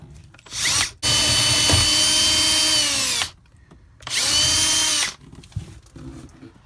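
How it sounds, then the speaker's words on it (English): A power drill whines loudly in two long bursts while enlarging a hole in a portable toilet, the second shorter, with a brief quiet pause between them. "Now we'll enlarge the hole."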